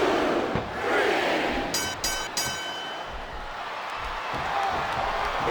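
Arena crowd in a WWE SmackDown vs. Raw 2007 wrestling match roars steadily and loudly throughout, a dense sustained cheer with a brief shrill horn-like tone rising over it partway through.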